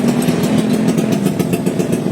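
Alloy pit bike with a torque drive, running steadily at a race pit, its engine note a continuous close buzzing idle with faint pulsing and no voices.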